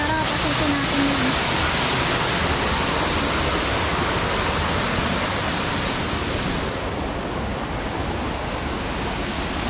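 Water rushes steadily inside a cave at Sundial Garden, a dense broadband roar like a small waterfall that holds level and near throughout, easing slightly toward the end.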